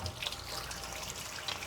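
Tap water runs steadily into a sink as hands are washed during chicken lollipop cooking, a soft continuous trickle heard close by and alone for a couple of seconds.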